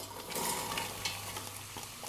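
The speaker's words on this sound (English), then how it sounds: "So we're frying onion first to create that amazing flavors as the foundation." Chopped onions frying in olive oil in a pan: a soft, steady sizzle with faint stirring scrapes, close but quiet and without voices.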